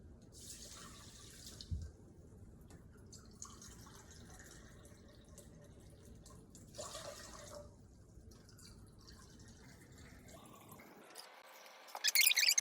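Water running from a kitchen tap into a cooking pot while flaxseed is being prepared, a quiet, thin trickle with brief louder splashes, ending in a stronger, brighter gush of flow.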